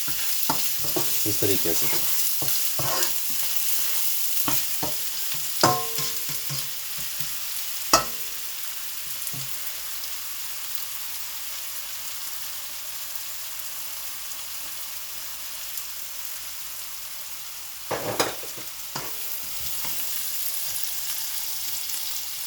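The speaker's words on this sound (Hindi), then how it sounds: "अब मैं इसमें प्याज जो है वो ऐड कर दूंगा" Onions fry with garlic in a pan over low heat for mutton champ, a soft even sizzle with sharp stirring knocks, mostly early and again near the end, and a brief spoken phrase.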